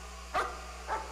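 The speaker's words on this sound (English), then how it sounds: "We have a doggy!" A dog in the horror video game Layers of Fear gives two short barks about half a second apart. They are faint and heard alone, with no talk.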